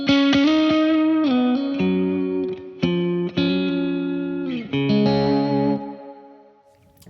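Electric guitar played softly through a Victory VC35 Copper amp with the gain on full, sustained overdriven chords ringing out and changing several times, then decaying into near silence.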